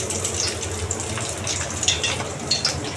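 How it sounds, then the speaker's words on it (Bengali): Fish frying in oil in a wok (kadai) for a fish curry, a steady broadband sizzle with crackling pops, close and moderately loud, running continuously with no talk. "কড়াই বসিয়া তেল দিলাম, মাছের ঝোল পুরনে দিমু, মাছ ভাজা নামাই দিচ্ছি।"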